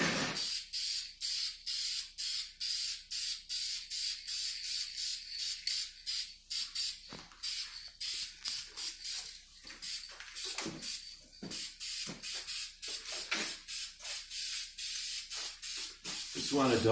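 Short, rhythmic hissing bursts of a spray can lay light coats of paint on the mounting fasteners of a 5.3 engine. The bursts repeat steadily close to the mic, with brief pauses between them.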